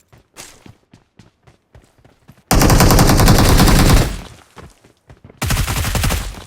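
Gunfire in PUBG Mobile: a series of sparse single shots, then a loud sustained burst of automatic fire, a brief lull and another dense burst, close and harsh.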